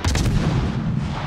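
Deck guns of the Kamikaze destroyer fire in World of Warships: Legends, a loud, close burst of overlapping booming shots with a rumbling tail.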